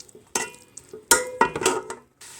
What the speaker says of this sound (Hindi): ये प्याज़ों को मैं ब्राउन करूँगी।